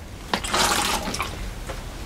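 Water is poured onto small pots of pricked-out nasturtium seedlings, giving a few short splashing bursts close by with no talk.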